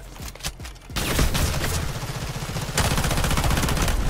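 Rapid automatic gunfire from bots in the extraction shooter Delta Force: Hawk Ops, a few scattered shots followed by a dense, continuous rattle of fire that intensifies toward the end.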